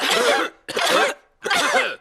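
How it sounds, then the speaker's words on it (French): Three harsh cartoon coughing bursts, close and loud, separated by short pauses. "Vous avez attrapé la toux de Pedro"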